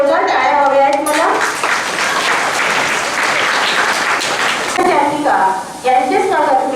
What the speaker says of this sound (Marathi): सर्वांच्या जोरदार टाळ्या हव्या आहेत मला